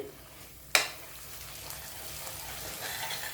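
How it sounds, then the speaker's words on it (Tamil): Small onions simmering in oil for thokku, a faint low steady sizzle after a single sharp knock, close and quiet with no voices. "இப்போ சிம்மில் வச்சுட்டு ஒரு 7 நிமிஷம் இதை நல்லா வதங்க விட்டுருங்க"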